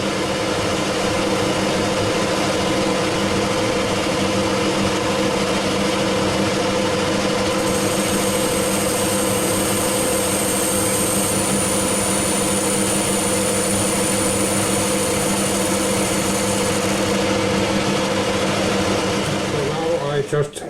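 A vacuum sucks metal chips out of a freshly machined hole, a loud, steady roar filling the whole stretch, with a thin higher whine joining for a while midway.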